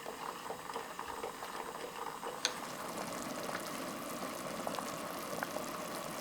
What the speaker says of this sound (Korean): 이제 어묵과 표고버섯을 넣고 끓인다.